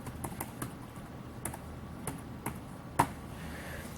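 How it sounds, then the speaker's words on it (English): Typing on the solid plastic keyboard of an Acer One S1002 2-in-1 tablet, a sparse series of light, close clicks with one sharper tap near the end, in a quiet room. "let's see how this keyboard feels as I type in my number"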